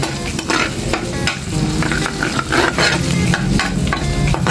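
Garlic cloves with their skins frying in a pan for fried rice, a loud, continuous sizzle broken by repeated scraping stirs of the spatula, close up and with no voices.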